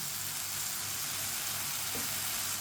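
Masala okra (bhindi) sizzles and fries steadily in a pan, a constant close hiss with a faint stir near the end.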